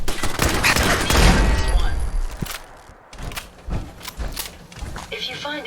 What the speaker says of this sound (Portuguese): Descendo o barulho da torreta aqui